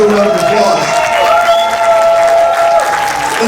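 Loud, sustained applause sweeps through the audience at an evangelical Bible college and seminary graduation ceremony, a dense wash of clapping with voices mixed in.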